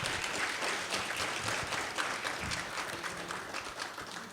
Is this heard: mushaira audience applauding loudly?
yes